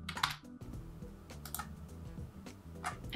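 Quick, quiet typing on a computer keyboard, a steady patter of light key clicks that runs for a few seconds with no talking.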